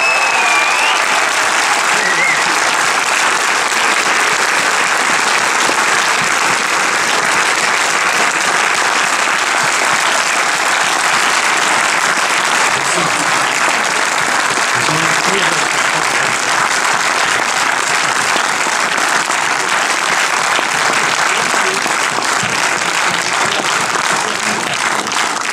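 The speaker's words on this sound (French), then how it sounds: "un tonnerre d'applaudissements pour monsieur Michel Blanc" Sustained, dense applause from a large premiere audience for actor Michel Blanc at a French film screening, a loud steady roar of many hands that continues without a break throughout.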